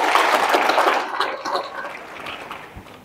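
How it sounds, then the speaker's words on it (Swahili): Applause from staff at a Tanzanian defence ministry workers' council meeting, a dense broadband patter of many hands that starts loud and gradually thins and fades over a few seconds. "kwa kuwashukuru basi tuwapigie angalau makofi"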